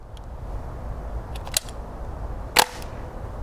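Squib round fired in a UMP submachine gun: a faint muffled pop with little report, followed a second later by a second sharper click, both over steady low background noise.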